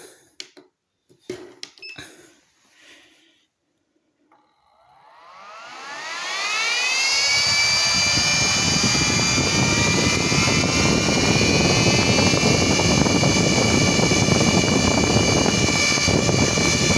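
Six 300 CFM cooling fans on a 12-volt laptop cooler spin up from silence after a few clicks, building to a loud, steady airflow roar with rising whine tones that hold constant.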